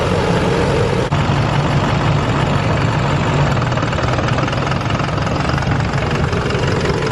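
A Duramax LOY diesel truck engine idles loud and close without a break, a rough low rumble with a ticking, knocking edge, and no talk over it.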